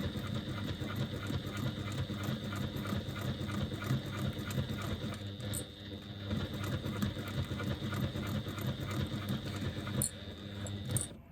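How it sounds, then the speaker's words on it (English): A sewing machine top stitching a bag seam a quarter inch from the fold, running as a steady, fast mechanical whir and rattle with a short pause midway and a few light clicks, close and without talk. "I'm top stitching here at 1/4 inch from the folded seam"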